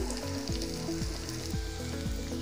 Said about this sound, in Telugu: స్వీట్ కార్న్ కూడా కొద్దిగా వేగనివ్వాలి